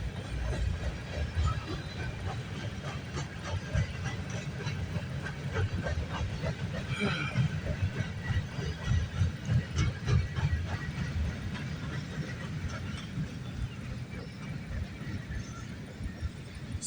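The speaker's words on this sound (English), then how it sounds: "Symbol on that train is CN M322." CN freight train M322 on the York Subdivision rolls past at night with a continuous low rumble and rhythmic wheel clatter, moderately loud and steady throughout.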